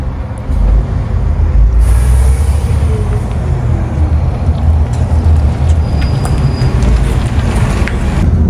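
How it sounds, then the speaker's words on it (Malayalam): A bus rumbles in with a steady low engine drone, a sharp hiss of air brakes, and faint squeals as it pulls up nearby. "നമ്മുടെ ബസ്സാണ് കേട്ടോ ഇതാ വന്നുകൊണ്ടിരിക്കുന്നത്"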